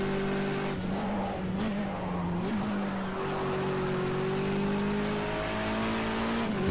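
A BMW touring race car in a racing video game revs hard after dropping two gears, its steady engine drone rising and falling in pitch with brief tire-scrub noise, loud and continuous with no talking.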